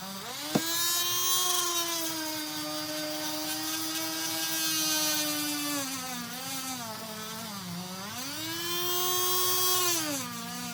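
Dremel rotary tool polishing petrified wood, a high-pitched whining spin that holds steady, then dips and recovers in pitch as pressure changes, loud and close with no voices.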